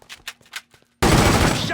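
Gunfire in The Godfather 2, a loud sustained burst of rapid shots that cuts in abruptly after a few quiet clicks and faint background sounds, continuing steadily to the end.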